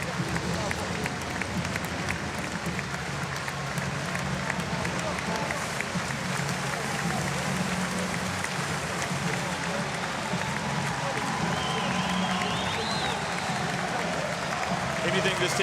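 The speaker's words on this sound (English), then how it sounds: "they're receiving warm applause even from the German fans" Warm applause from a basketball arena crowd, German fans included, for the Varese team at a FIBA Europe Cup final award ceremony: continuous distant clapping and crowd murmur under a commentator talking throughout.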